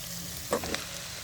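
Boiled chow mein is tossed with fried chicken in a hot pan, giving a soft steady sizzle broken by two quick scraping stirs of the spatula.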